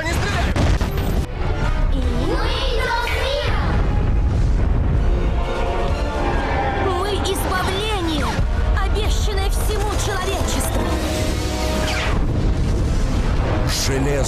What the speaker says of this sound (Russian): О боже, они стреляют!